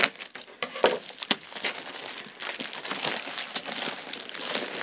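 Cellophane packaging on a cutting machine unboxing being torn and crinkled by hand, close and crackly with irregular bursts of rustling throughout.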